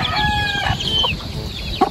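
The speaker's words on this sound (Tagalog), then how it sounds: "Meron pong sisiw dun" Chickens in a coop beside a fish pond, a hen with her chicks, cluck and chirp close by in a steady run of small calls, with one sharper call near the end.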